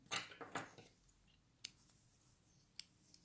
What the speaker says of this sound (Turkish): İpimi kesiyorum